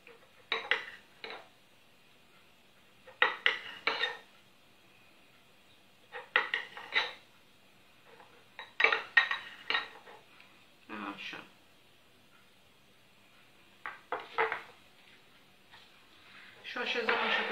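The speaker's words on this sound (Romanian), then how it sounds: "Și mozzarella o tăiem așa, feliuțe." Mozzarella being sliced with a knife on a kitchen board, giving repeated short bursts of cutting and plate clatter in clusters, close and moderately loud, with quiet gaps between.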